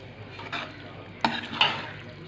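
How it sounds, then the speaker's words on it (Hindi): Spoon stirring chicken with kachnar (orchid tree bud) masala in a pan, a soft scraping swirl punctuated by two sharper metal-on-pan scrapes, close and alone. "चम्मच चलाते जाना है ताकि जो मसाला है इसके अंदर अच्छे से जज़ब हो जाए।"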